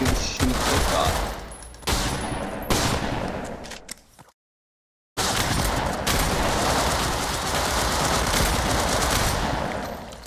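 Rapid bursts of turret-gun fire in a video game, loud and sustained with a brief silent gap midway before the firing resumes.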